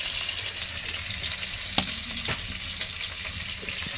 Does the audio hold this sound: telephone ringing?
no